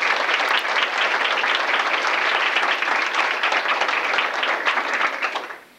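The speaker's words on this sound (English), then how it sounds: "a little round of applause for Ted" A banquet room audience at a 1995 volleyball banquet in Dodgeville claps for Ted, dense, full applause holding steady for several seconds before tapering off abruptly at the end.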